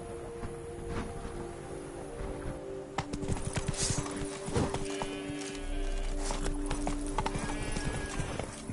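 A horse's hooves clip-clop steadily on the ground in The Witcher 3, with a close, even trotting rhythm, a brief whinny and saddle creaks, and game sounds underneath.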